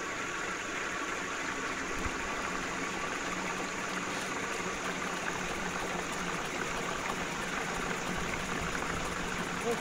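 Water under pressure rushes through a rotating flow turbine, a constant, loud, steady hiss and churn with a low mechanical hum throughout, no pauses.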